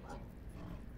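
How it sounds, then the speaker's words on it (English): An alien in the video game No Man's Sky gives a short barking battle cry, a single gruff dog-like yelp lasting about a second, fairly close over a muffled background. "The alien barks a loud battle cry as I approach"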